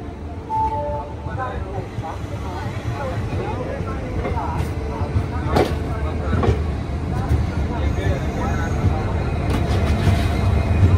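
A passenger train pulling out of Hazrat Nizamuddin station, heard from inside a sleeper coach as a steady rumble of wheels and carriage noise with faint clanks, voices chattering in the background.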